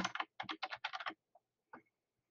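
Quick bursts of close, crisp keystrokes on a computer keyboard as a username is typed, then a few isolated taps and a pause.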